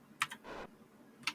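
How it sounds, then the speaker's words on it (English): Noisy computer keyboard typing in quick, separate bursts of clicks, the first pair close together and another burst a second later, with a softer rustle between, fairly close and alone. "if you hear my keyboard going bananas"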